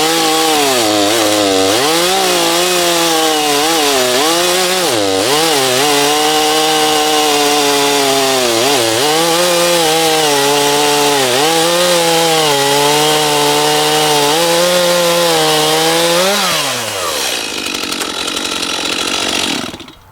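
A Stihl chainsaw cutting through wood, a loud, close, continuous high-revving engine whine that dips and surges with the load before dropping away as the cut finishes.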